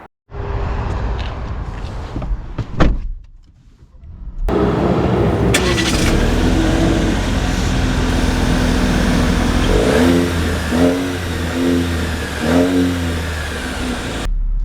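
A 2025 Jeep Compass Sport 4x4: a door thud and cabin shuffling, then the engine starts and settles into a steady close hum, with a few quick revs rising and falling before pulling off.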